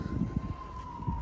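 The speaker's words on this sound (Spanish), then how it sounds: "Oye, las sirenas." Emergency vehicle sirens wail steadily at a distance in San Pedro, a thin sustained tone under low rumbling street noise and faint nearby sounds.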